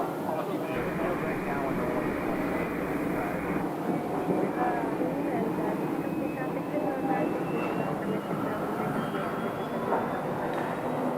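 An aircraft engine powers up at Scottsdale airport as a steady, loud roar with a thin whine that slowly climbs in pitch. Voices can be heard faintly beneath it.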